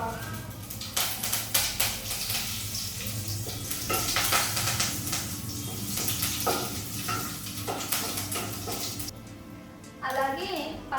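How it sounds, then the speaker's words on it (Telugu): Whole spices, bay leaf, cloves and cinnamon frying in hot oil for a Nellore-style veg liver fry, a continuous loud sizzle with pan clinks and stirring while someone talks over it. "ఆయిల్ కూడా హీట్ అయింది ఇప్పుడు ఇందులోకి మనం స్పైసెస్ బిర్యానీ ఆకు లవంగం చెక్క అలాగే పోపు దినుసులు యాడ్ చేస్తాం"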